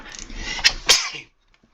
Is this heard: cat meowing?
no